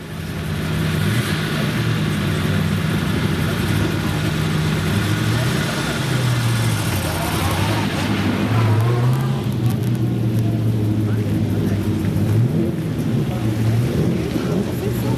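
A classic car engine idles at a concours of elegance show, a steady low rumble with wind buffeting the microphone and faint talk in the background throughout.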